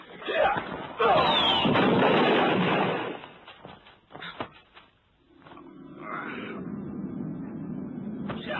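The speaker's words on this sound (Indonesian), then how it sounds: "Bunyi ledakan ajian cadas ngampar tadi terdengar sampai ke pinggiran bukit." Booming explosion effect in an Indonesian radio drama, a sustained loud blast lasting a couple of seconds, followed by quieter rumbling and a low droning tail.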